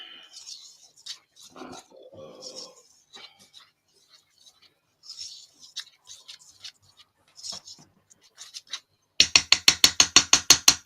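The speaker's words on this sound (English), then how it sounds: "I'm just going to whisk these together." A whisk beating ingredients together in a bowl while baking, a fast, sharp, evenly spaced rattling that starts near the end, loud and close, after quiet talk and faint kitchen handling noises.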